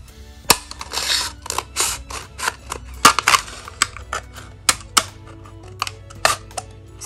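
A series of sharp snipping and cracking clicks at irregular intervals, close and crisp, as scissors cut a plastic drinking cup in half.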